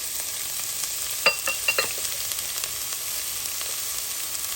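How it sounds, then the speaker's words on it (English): Onion and diced carrots sizzle steadily in hot oil in a pan for a Bolognese sauce, with a few sharp clicks and scrapes from stirring and no talking. "once the oil is nice and hot and dancing, we're going to add onion"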